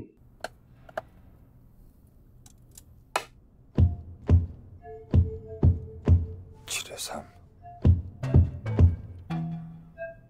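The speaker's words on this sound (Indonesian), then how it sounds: "Kode untuk bergerak hanya ketukan di dinding." Knocks on a prison isolation cell wall tapped out as a code for game moves in a board game of baduk, a sparse then quickening run of dull, close thuds and taps with brief voice-like sounds in between.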